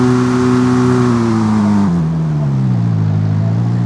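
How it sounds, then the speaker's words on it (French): A car in the Car X Street racing game roars loudly and steadily, its engine note stepping downward through gear changes over a few seconds, with no talk over it. "On va accélérer doucement un peu en fait"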